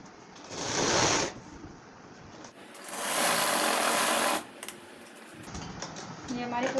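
A sewing machine runs a straight seam along a petticoat in two loud, close bursts of whirring stitching. Quieter stretches between the bursts carry someone speaking.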